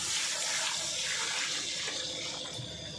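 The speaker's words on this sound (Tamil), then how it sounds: "நம்ம தண்ணி ஊற்றிடணும்." Water pours steadily into a cooking pot over softened tomatoes while making ghee rice with chicken curry, a continuous close splashing rush that fades slightly toward the end, with no voices.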